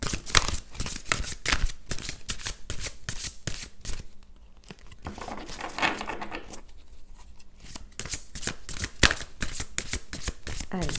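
Tarot cards being shuffled by hand, a rapid run of crisp riffling flicks that pauses briefly midway and then resumes, close and fairly loud, with a little talk.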